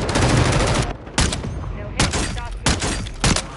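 Gunfire in a shooter video game: several loud, dense bursts of rapid shots separated by short pauses, close and harsh, with scattered talk faintly underneath.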